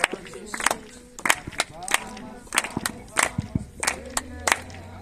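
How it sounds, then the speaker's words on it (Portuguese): A church congregation claps hands in a steady rhythmic beat: sharp, loud claps land in regular groups, with singing or speaking voices under and between them. "Bate palmas, palmas, palmas, bate palmas."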